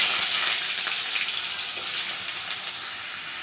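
Potatoes sizzle steadily in hot oil with cumin and nigella seeds for aloo posto, a dense, even crackle and hiss running close and unbroken throughout with no talking.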